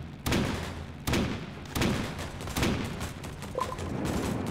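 Gunfire in the World War II video game Road to Valor: sharp, sudden bursts about once a second over a rumbling battle background.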